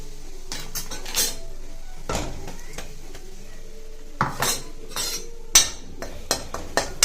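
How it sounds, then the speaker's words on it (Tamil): Ground spice powder going into hot oil with mustard seeds in a kadai, mostly heard as a spoon clanking and scraping against the metal pan in irregular bursts, with a light sizzle between the knocks. "நம்ம இப்போ அரைச்ச பொடியை இந்த எண்ணெயிலே ஆட் பண்ணிக்கோங்க"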